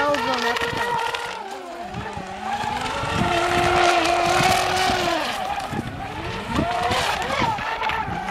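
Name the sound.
boat engine at almost full throttle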